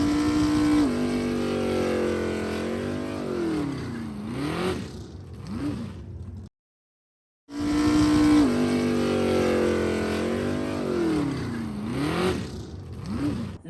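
Production-class race cars at the Grand Prix Trois-Rivières scream past loudly, their engines rising and falling through gear changes. The run cuts out briefly to silence, then a near-identical second pass follows.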